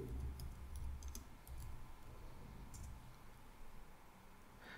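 Soft computer keyboard typing as a command is entered into a terminal, a few quick clicks and taps at the start over a steady low room hum, faint and close.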